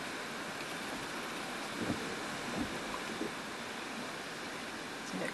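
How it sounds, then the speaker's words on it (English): Strong outdoor wind before a storm, a steady broadband roar that buffets the microphone with a few low thumping gusts, continuous and close, with no talk. "That's just too windy out there."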